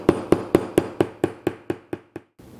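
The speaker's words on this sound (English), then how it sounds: "the corner itself will flatten out nicely with a little work with the hammer" A hammer taps an upholstered leather or vinyl stool backrest corner to flatten it, about ten sharp, evenly spaced blows in quick succession that gradually grow softer, close up with nothing else heard.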